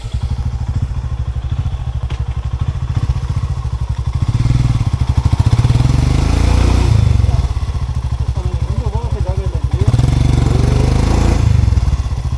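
An off-road motorcycle revs hard on a muddy monsoon trail, its engine loud and close as the throttle swells and eases in repeated surges, with clattering and thuds from the bike throughout.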